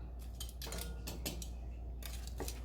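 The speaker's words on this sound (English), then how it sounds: "What we're going to do is get them back in the pot." Braised beef short ribs, browned on all sides, clatter back into a cooking pot: a series of sharp metallic clinks and scrapes in irregular bursts, close and moderately loud, with no talking.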